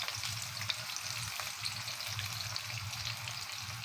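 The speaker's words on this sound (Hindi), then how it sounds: "अब हम इनको शैलो फ्राई करेंगे।" Methi (fenugreek) kebabs shallow frying in oil in a pan, a steady, close crackling sizzle that holds evenly throughout with a low pulsing hum beneath and no talking.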